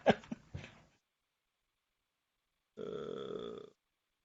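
A single drawn-out burp near the end, close and fairly loud, coming after a few short sounds and a stretch of silence.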